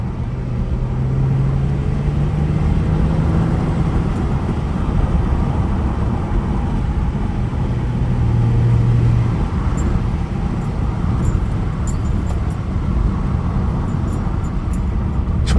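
A car engine drones loud and steady with road roar, while downshifting and a transmission malfunction are reported. There are no clear distinct gear changes, just a continuous rumbling hum that lasts the whole time.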